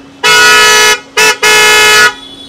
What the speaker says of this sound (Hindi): तो ये आपका क्रेटा टाइप हॉर्न है